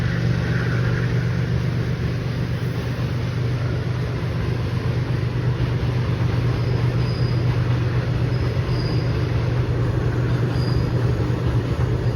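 Continuous low rumble and road noise from inside a moving car near Kulem railway station, Goa, steady and unbroken for the whole stretch, with no voices.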